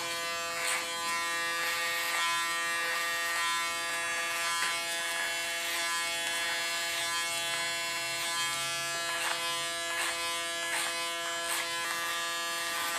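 Hair clippers buzz steadily and close up as they cut a woman's short hair, a constant high electric hum with slight fluctuations as the blades move through the hair.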